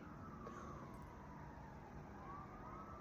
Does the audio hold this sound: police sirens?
yes